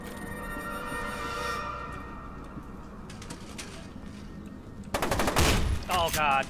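Pump-action shotgun fire in the video game F.E.A.R. bursts out in loud, close blasts near the end, after a stretch of game ambience and layered electronic tones.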